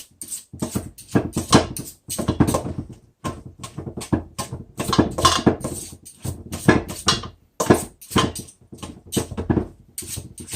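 Food being mixed in a pot, heard as close, rhythmic clacks and scrapes of a utensil against the pot, repeating in quick uneven bursts with short pauses throughout.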